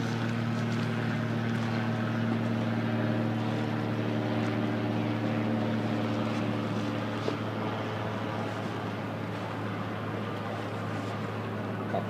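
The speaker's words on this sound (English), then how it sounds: "Couple of boats out here." A steady low engine drone hums continuously from boats in a harbor, idling or cruising nearby, with no voices.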